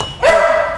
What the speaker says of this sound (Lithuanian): Stašaitytės ir Masalskio šuo yra eilinis Jack Russell terjeras